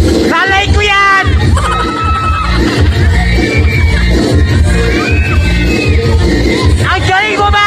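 A loud crowd at a barangay Christmas party shouting, whooping and cheering over each other, high excited voices and children's shrieks rising and falling without a break.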